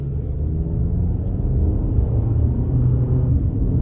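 A 2022 Toyota RAV4 XLE accelerates at about a third throttle, heard from inside the cabin as a steady low engine and road rumble that holds its level throughout, with no talk.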